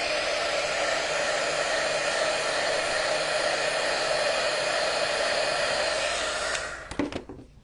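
A hair dryer blows steadily and loudly on a fresh coat of paint on a witch hat and boots craft piece, holding an even roar for several seconds before cutting off abruptly near the end.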